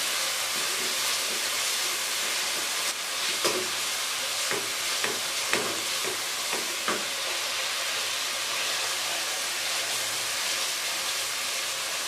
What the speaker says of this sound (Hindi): अब इनकी थोड़ी देर भुनाई कर लूँगी।